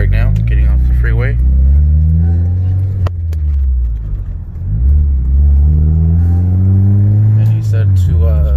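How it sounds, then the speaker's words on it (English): A car accelerates hard in third gear while leaving a freeway, its engine rising in pitch through a long pull, dipping briefly, then climbing again loud and close under talk inside the car. "we're gonna do a data log for third gear pull right now, getting off the freeway"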